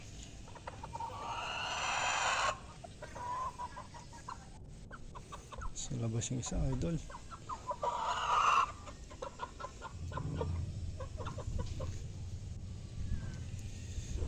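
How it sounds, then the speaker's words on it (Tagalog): Chickens cluck and squawk nearby, with a rooster's call breaking through, while someone speaks intermittently over the farmyard noise. "Aking mga alagang manok."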